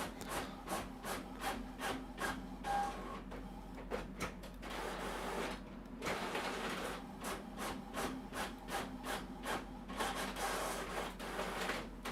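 A household printer works through a page, its print head sweeping back and forth in quick regular strokes with rubbing, scraping mechanical tones and brief pauses, moderately quiet and without voices.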